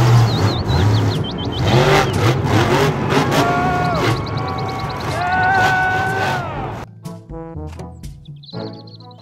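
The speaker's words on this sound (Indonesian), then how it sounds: "Mobil truk monster." A toy truck's high whirring engine revs over a busy, loud background, rising and falling, then cuts out into quieter clatter near the end.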